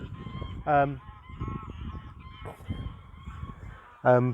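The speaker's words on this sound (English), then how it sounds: "There you go, a couple of geese flying over, lovely." Two loud goose honks from geese flying over ring out a few seconds apart over a steady low background hum.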